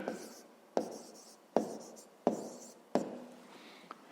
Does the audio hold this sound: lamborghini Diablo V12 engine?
no